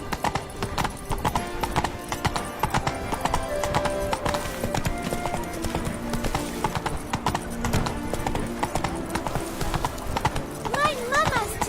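Geralt's horse Roach trotting in a video game, hooves clip-clopping in a steady brisk rhythm over game music, with a whinny and voices talking over it.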